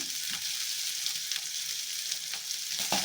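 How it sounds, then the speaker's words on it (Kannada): Brinjal frying in oil in a pan for a festive ennegai dish, a dense crackling sizzle close up, punctuated by several brief scraping strokes as the pieces are stirred. "ಸ್ವಲ್ಪ ಚೆನ್ನಾಗಿ ಇವನ್ ಫ್ರೈ ಮಾಡ್ಕೊಳ್ಳೋಣ"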